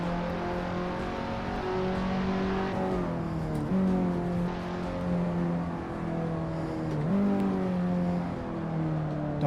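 A race car engine in the Assetto Corsa sim racing game roars steadily at high revs, pitch climbing through gears with brief dips at shifts, loud and continuous with no talking.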